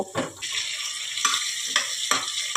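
Frying sizzle as snakehead fish go into hot oil beside fried potatoes, with a few sharp stirring scrapes at intervals, close by, no talking.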